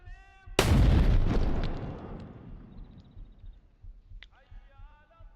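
A grenade detonates in a first-person shooter game, one sudden loud blast with a long rumbling tail that decays over a couple of seconds, followed by quieter ambient sounds and a short sharp click.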